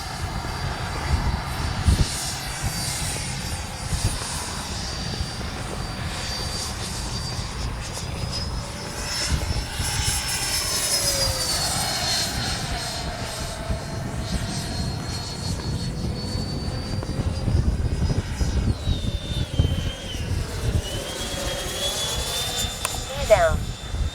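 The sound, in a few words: Freewing 90mm F-22 RC jet flying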